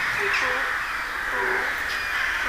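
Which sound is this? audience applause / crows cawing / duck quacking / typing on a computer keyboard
crows cawing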